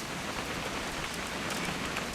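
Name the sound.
rain in the video game What Remains of Edith Finch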